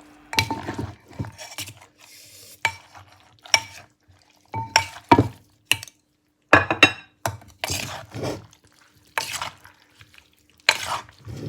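Repeated wooden thuds and clatter of pounding and mixing a spicy sea cucumber salad in a mortar, in irregular bursts separated by short pauses.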